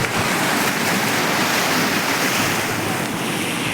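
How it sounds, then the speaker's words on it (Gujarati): Sea waves near the Gangeshwar Mahadev temple roll and wash in a constant loud roar, mixed with wind buffeting the microphone, with no talking. "ઠંડો સમુદર."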